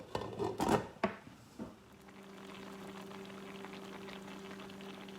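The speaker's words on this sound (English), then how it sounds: "The noodles have been boiling for 5 minutes." A few clattering knocks and a splash, then a low steady bubbling with a faint hum as a pot of noodles boils quietly.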